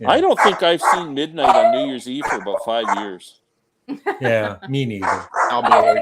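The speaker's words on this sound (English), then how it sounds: "That's my dog's going nuts." A pet dog barks and yips indoors while people chat, with the barking mixed under continuous conversation.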